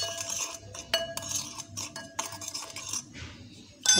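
A metal spoon stirring finely ground homemade tooth-remedy powder in a small dish, with repeated close scraping and light clinking strokes in an uneven rhythm and no talk.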